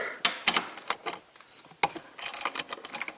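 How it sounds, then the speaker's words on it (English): Ratchet working a 10mm bolt on a Porsche Cayenne: quick bursts of sharp clicking and ratcheting in uneven clusters, close and fairly quiet, separated by short pauses. "Next, let's remove this bolt. That's a 10mm."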